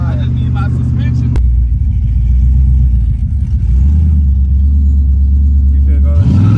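A 6.2 LS-swapped Chevrolet El Camino rumbles with a deep, loud, steady exhaust drone heard close up from inside, with a brief rev near the start, while people talk over it.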